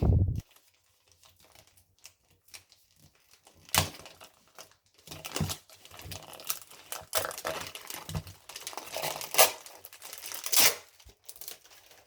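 A Polly Pocket toy package is opened up close, with soft intermittent crinkling and tearing of plastic wrap in short bursts separated by quiet gaps.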